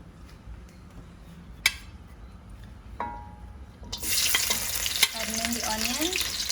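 Garlic, tomatoes, scallions, seasoning peppers, and purple and white onions drop into hot oil. After a few quiet seconds of faint clinks, a sudden loud, steady sizzle starts close by and keeps going.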